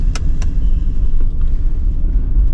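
A Lexus LX 470 SUV, the Land Cruiser 100 series, drives along with a steady low engine and road rumble, continuous and close throughout, with no talking.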